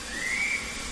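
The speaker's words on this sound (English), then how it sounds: "he blew his whistle" A railway guard's single short, shrill whistle blast rising slightly in pitch, clear over a quiet hissing background.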